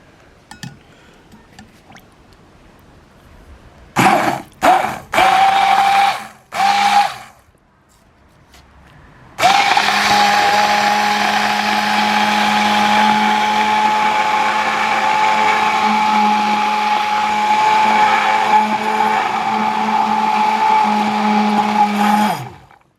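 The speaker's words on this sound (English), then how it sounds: "Take the blender." A few short bursts of a Silvercrest hand blender whir while blending cream soup, then a long steady blending run with a constant high-pitched motor hum.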